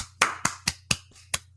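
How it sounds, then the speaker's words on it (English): A person clapping hands, seven sharp, distinct claps at a steady, slightly uneven rhythm, close and fairly loud against a low electrical hum, with no talking. "That was me clapping."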